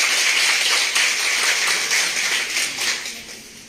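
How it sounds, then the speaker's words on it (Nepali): Sustained applause and clapping from a church congregation greeting Pastor Mani Rai at an anniversary and pastoral ordination ceremony, a steady dense crackle that slowly tapers toward the end. "उहाँको लागि जोरदार ताली बजाउनुहोस्"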